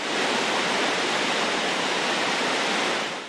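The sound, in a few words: water flowing over a hydroelectric dam spillway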